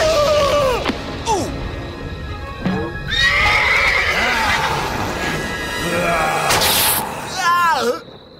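Cartoon horse neighing in an animated Halloween episode, several loud whinnies with galloping clip-clop and crashing effects, mixed with character voices and sound effects.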